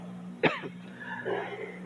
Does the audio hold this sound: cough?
yes